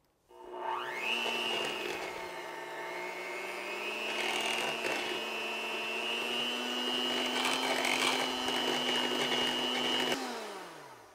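An electric mixer or blender whirs through keto waffle batter with strawberry and sweetener, a steady close motor drone that spins up, holds for about nine seconds with slight pitch shifts, then cuts off, no talking.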